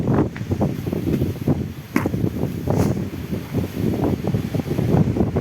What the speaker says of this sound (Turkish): Nasıl esiyor yine?